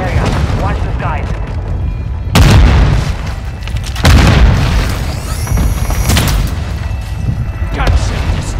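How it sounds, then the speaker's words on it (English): Mortar strike explosions in Call of Duty on Ashika Island boom repeatedly amid constant battle noise, with several heavy blasts spaced a second or two apart, loud and close, and a voice talking at moments. "Mortar strike underway. Hostiles dropping in the area. Watch the skies."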